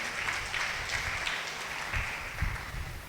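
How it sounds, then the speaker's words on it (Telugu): A church congregation claps loudly during a Telugu sermon on the joy God gives: a dense, sustained wash of many hands clapping close and steady, with a few sharper bursts and no talking. "గట్టిగా చప్పట్లు కొట్టి గట్టిగా దేవుని మహిమ పొందుదాం."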